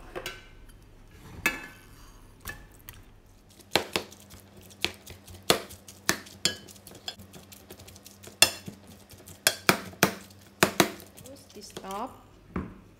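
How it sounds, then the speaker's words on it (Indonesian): A stone mortar and pestle (ulek) grinds grated tofu, making a series of sharp, irregular knocks and scrapes, some loud and close, with quieter pauses between bursts. "Sekarang tahunya saya akan ulek"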